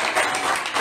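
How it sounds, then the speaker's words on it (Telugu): A church congregation claps hands in praise, dense overlapping applause filling the room steadily for under a second, close and fairly loud with no voices heard. "చప్పట్లు కొట్టి దేవుని స్తోత్రం చేద్దామా?"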